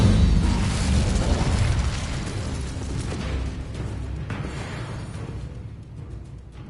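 A fiery Incendio spell burst from Hogwarts Legacy on PS5, a loud roaring blast at the start that rumbles and slowly fades over several seconds with no talking.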